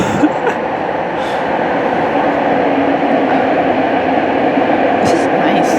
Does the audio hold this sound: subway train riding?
yes